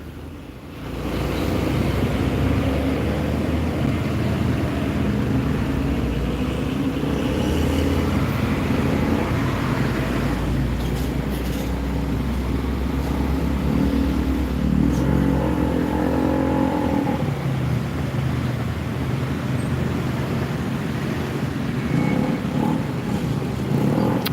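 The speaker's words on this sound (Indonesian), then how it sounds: "Lalu lintas di depan terminal agak mulai ramai. Truk dan mobil minibus." Trucks and minibuses pass in front of the Palembang bus terminal, making a steady, loud roadway rumble with engine drone that swells and fades as vehicles go by, without a break for the whole stretch.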